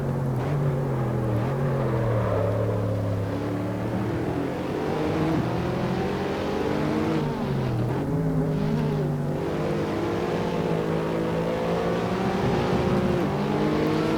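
Mercedes SLS engine in the racing game Assetto Corsa, a steady loud drone whose pitch sweeps up and down as the throttle is eased off and reapplied, heard alone with no talking.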